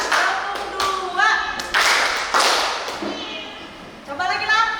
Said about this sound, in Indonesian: Coba tepuk 2.